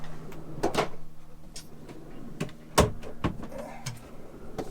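Drawers in a vintage 1973 Shasta camper being pulled open, giving a series of sharp knocks, clacks and sliding rattles spread unevenly over several seconds, close up in a quiet interior.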